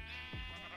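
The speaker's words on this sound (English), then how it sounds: "and look at that, sheep trap themselves." A single short sheep bleat from the Minecraft video game, heard alone and close against a steady faint background.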